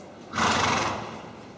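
Black horse neighing at a riding clinic, one loud close whinny that rises sharply and fades over about a second, with nothing else around it.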